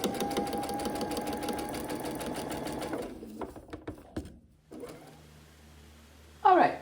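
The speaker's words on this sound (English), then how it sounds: "you join up your edges and stitch down the side" A sewing machine stitches down the side of a fabric tube, running steadily for about three seconds. After that, brief clicks and handling knocks follow with a sharp rustle at the end, and no one talks.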